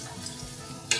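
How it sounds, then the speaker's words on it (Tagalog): Filipino lumpia shanghai filling frying in hot oil, a brief soft sizzle with light crackle and a short brighter spatter near the end, quiet and without voices. "piprito muna ako ng mixture para ma-sure ko kung"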